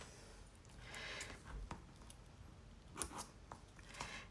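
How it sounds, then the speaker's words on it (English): Scissors are handled during paper tag crafting, with a series of quiet snips and clicks, soft handling noise and small taps spread unevenly across a few seconds, close to the listener. "Let me get my scissors."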